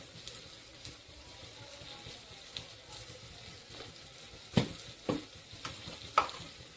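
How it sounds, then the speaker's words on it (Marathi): Ginger garlic paste and red masala frying in a pan for Konkan prawn rice, a soft low sizzle with occasional sharper spoon knocks and scrapes, fairly quiet and close. "परत त्याला मस्त म्हणजे फ्राय करून घ्यायचं"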